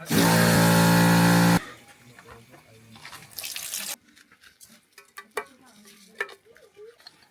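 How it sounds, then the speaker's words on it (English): Rice is washed in water at an off-grid desert campsite: a loud rush of pouring water opens, then quieter swishing and grainy stirring with scattered clicks and knocks close by. "There's a proper way to make rice. You gotta wash it."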